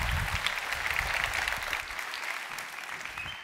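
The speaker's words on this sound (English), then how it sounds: "Sam, give him a round of applause" Conference keynote audience applauding a guest speaker, dense clapping that is loud at first and then thins and softens after about two seconds.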